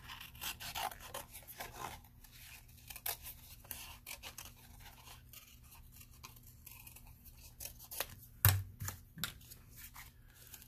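Scissors cutting out a traced shape for a big head craft project: quiet, close snipping and rubbing sounds, with irregular cuts and a sharper clack near the end.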